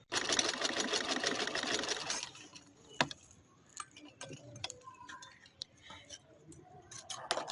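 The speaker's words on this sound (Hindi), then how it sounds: "हमने इतनी बारीक सिलाइयाँ लगानी है।" Sewing machine stitching off-white trouser fabric, a fast rattling run of stitches for about two seconds, then scattered ticks, clicks and light handling noises close by.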